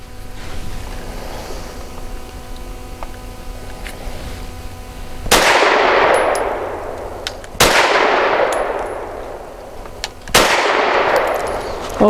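Three loud gunshots from a Walther PDP 5-inch Compact pistol firing Winchester Super Clean 90-grain zinc-core full metal jacket rounds, spaced a few seconds apart, each a sharp crack with a ringing decay after quiet outdoor background.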